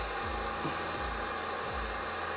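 Wagner Furno 700 heat gun running with a steady, loud fan roar and hiss, close to the microphone.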